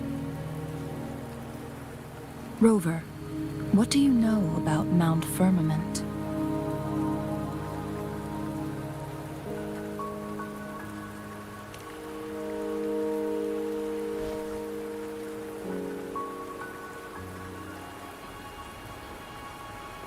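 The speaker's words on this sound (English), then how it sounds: "Don't worry, the rain won't last much longer." Steady rain falls on a surface in the video game Wuthering Waves, a soft continuous patter under game music, with a few louder bursts early on and a voice speaking briefly near the start.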